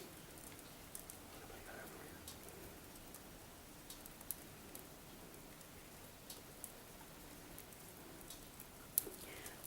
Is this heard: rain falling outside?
yes